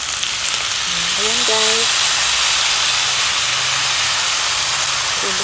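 Chili and soy sauce go into chicken feet adobo frying in a pan, giving a steady loud sizzle and hiss. Someone speaks briefly over it.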